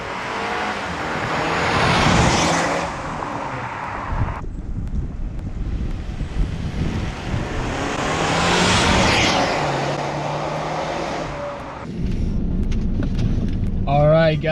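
A loud, rumbling straight-piped exhaust from a salvage Saab 9-5, running cold, swells and fades as the car drives past, with heavy wind buffeting and a brief voice near the end.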